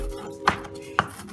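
An onion chopped with a knife on a board in a home kitchen, two sharp close knocks about half a second apart, alone with no talk.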